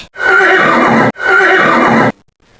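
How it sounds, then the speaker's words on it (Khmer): Two loud, close horse whinnies, each about a second long, run back to back with a brief gap between them, followed by quiet. "សត្វសេះ"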